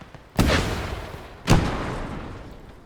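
Two heavy gunshot booms in the Gates of Hell World War II battle game, about a second apart, each a sharp loud crack trailing into a long rumbling decay, with no voices over them.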